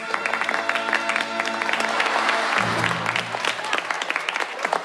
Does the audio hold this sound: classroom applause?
yes